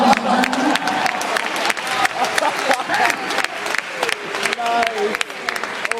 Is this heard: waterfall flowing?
no